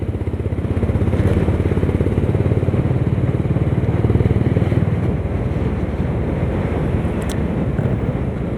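A Honda CB350 H'ness 350cc motorcycle cruising on a highway, its steady engine drone blended with heavy, continuous wind rush across the microphone throughout, loud and close with no break.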